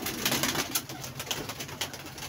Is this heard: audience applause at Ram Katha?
no